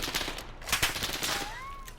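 Rapid bursts of FAL rifle fire in Modern Warfare, a string of sharp close shots in quick succession with a brief rising electronic tone near the end; no one talks.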